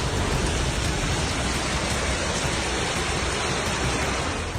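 Heavy rain pours over flooded streets in Murcia, Spain, a dense, steady roar of water that stays loud and unbroken throughout, with no voices.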